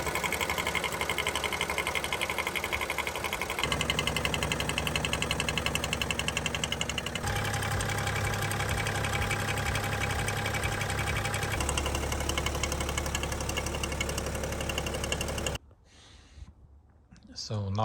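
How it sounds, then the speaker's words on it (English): A car engine's vacuum pump knocks in a fast, steady mechanical rhythm that shifts tone across several sections at a close, loud level, then cuts to near quiet at the end. "In following frames you can hear how vacuum pump works on other cars."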